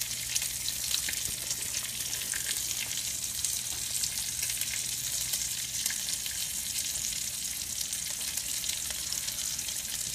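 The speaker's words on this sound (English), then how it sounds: "So, go ahead and stir your gorgonzola cream sauce." Gorgonzola cream sauce sizzles steadily in a pan as it is stirred, a continuous close frying hiss with no voices.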